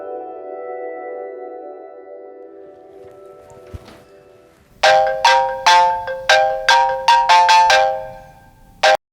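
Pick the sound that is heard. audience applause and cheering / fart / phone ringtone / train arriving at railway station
phone ringtone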